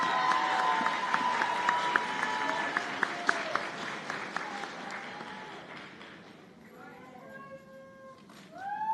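Audience applause at a nursing school white coat ceremony, a steady wash of clapping with distinct sharp claps that fades after several seconds, followed by voices speaking.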